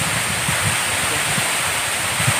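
A high waterfall on a Mount Prau hiking trail, heard as a loud, steady broadband roar of falling water mixed with gusting wind buffeting the microphone, continuous and close, with no talking.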